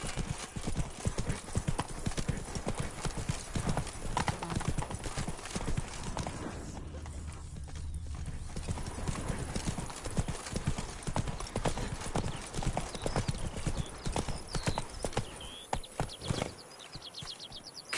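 Roach, a horse in The Witcher 3, walks with a steady, close clip-clop of hooves that runs almost the whole way through, thinning out near the end.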